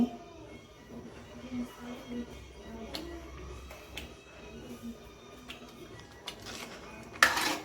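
A spoon clinks and scrapes against a pan as salt is stirred into pav bhaji, with scattered metallic taps over a quiet background and a brief louder clatter near the end.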